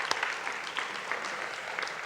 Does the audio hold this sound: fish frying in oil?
no